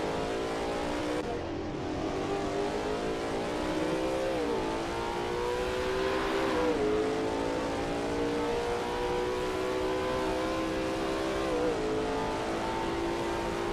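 Race car engine of a Lola T70 MkII Spyder lapping Sebring in a racing video game, a loud steady roar with rising revs and brief dips at gear changes, continuous throughout and no talking.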